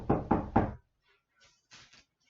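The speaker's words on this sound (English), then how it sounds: "Oh, someone's at the door." Three firm knocks on a door in quick succession, loud and close, followed by quieter shuffling and rustling sounds, with no one talking.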